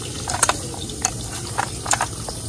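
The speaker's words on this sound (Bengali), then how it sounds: "রসুন নিয়েছি, রসুনটা দিয়ে দিব।" Chopped garlic dropped into hot oil with pangas fish, a faint steady sizzle with a few light scraping clicks from stirring, no one talking.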